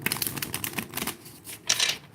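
Rapid papery riffling and clicking of an oracle card deck being shuffled, in quick bursts with a brief pause, then a final sharper flurry close by.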